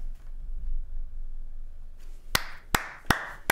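Four sharp, separate claps ring out at about even spacing, close and crisp, after a low, quiet stretch of background rumble.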